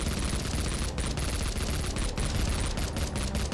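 Rapid submachine gun fire from the SMG in the shooter Project Warlock, a dense continuous burst of loud close shots with brief gaps, heard alone.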